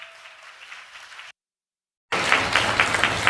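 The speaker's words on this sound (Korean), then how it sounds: "기립해서 박수해 주시기 바랍니다." A seminar audience rises for a standing ovation and claps from a moderate distance. The dense applause breaks briefly into silence and then resumes louder and fuller.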